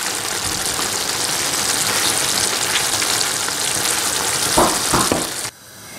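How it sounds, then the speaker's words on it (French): Meatballs fry in a pan with olive oil, a steady dense sizzle up close, with a couple of brief thuds and scrapes as they are turned before the sound drops away. "je surveille mes boulettes en les tournant sur les deux côtés"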